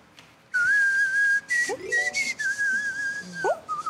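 A man whistles a wavering, melodic tune alone at close range on a Korean quiz show stage, with clear sustained notes sliding between pitches and brief pauses.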